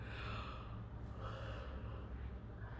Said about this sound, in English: When I yawn like that